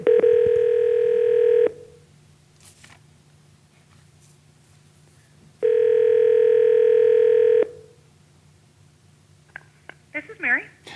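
A telephone placed on speakerphone sounds two loud, steady ringback tones of about two seconds each, separated by a quiet gap, followed by brief faint rustling and a voice starting at the end.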